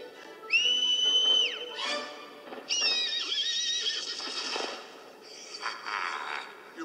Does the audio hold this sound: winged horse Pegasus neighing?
yes